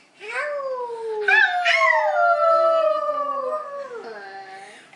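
A young toddler's voice imitates a wolf, producing a long, rising-and-falling howl in several drawn-out tonal swoops, loud and close, with no other talk over it.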